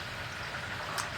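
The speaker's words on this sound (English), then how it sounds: "I'm out here deep frying a turkey, so that's that noise you hear." Turkey deep frying in hot oil outdoors, a steady dense bubbling and sizzling hiss that holds even throughout, close to the listener with no talking.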